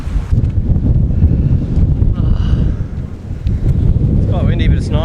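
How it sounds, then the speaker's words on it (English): Strong wind buffets the microphone at a coastal Cape York spot reached by four-wheel drive, rumbling gusts throughout with voices talking underneath. "It's quite windy"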